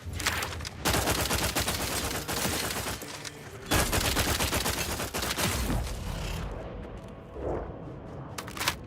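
Sustained automatic gunfire in The Outer Worlds 2 rattles in long, dense bursts with a brief lull, then tapers off into scattered shots and softer combat noise.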